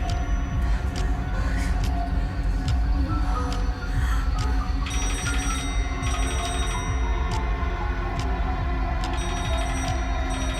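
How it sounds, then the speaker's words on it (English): A telephone bell sound effect rings in bursts over a dense, noisy background, its bright metallic trill repeating through most of the stretch. "Oh, and then you're just gonna hear that ringing."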